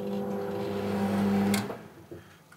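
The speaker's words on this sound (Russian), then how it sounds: "Микроволновка у нас работает." A microwave oven hums steadily after being started during a sensor repair, a low electrical drone with a brief click near the middle, then it fades toward quiet.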